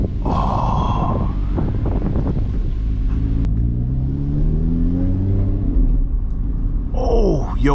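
A car pulls away and circles a parking lot, its engine rumbling and revving up through gears with rising and falling pitch, close and fairly loud, with brief voices.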